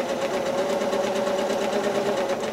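A sewing machine stitches a quilt along an inside curve, running steadily and close with a continuous whirring drone for the whole stretch, no voices over it.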